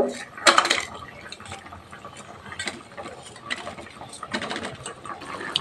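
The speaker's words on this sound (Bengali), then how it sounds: "একটু মিক্স করে নেব, কারণ ফ্রিজে ছিল।" A spoon stirs chilled food in a bowl, giving a few bright scraping and clinking bursts with quieter gaps between them and no talking.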